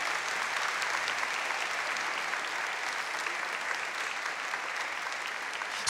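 Congregation at a Christmas-season church sermon breaks into applause, a thick, even roar of many hands clapping together, sustained and fairly distant without pause.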